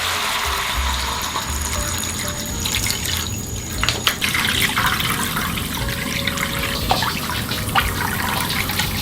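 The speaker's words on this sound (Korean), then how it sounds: "고기가 어느 정도 볶아지면 생수 부어주세요." Bottled water pours steadily into a pot over stir-fried beef for beef and radish soup, a loud continuous splashing gush that runs close up for the whole stretch, with no talking.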